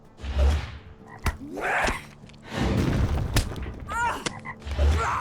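Toads croak in the Lord of the Rings Online game, several deep, throaty croaks with low thumping booms in between, loud and close, repeating irregularly.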